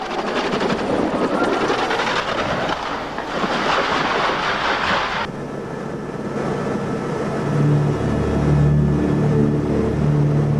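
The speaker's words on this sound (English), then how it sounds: "Loss of control of an aircraft due to mechanical failure like this jammed rear helicopter rotor" A helicopter with a jammed rear rotor roars nearby with a thick rotor wash, then the sound shifts to a lower, pulsing drone with a steady rhythmic beat.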